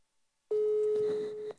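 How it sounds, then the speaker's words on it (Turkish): Ringback tone of an outgoing telephone call sounds as one steady electronic tone lasting about a second, fairly clear over a faint background with no speech. "Çalıyor. Telefon acı acı çalıyor derler ya."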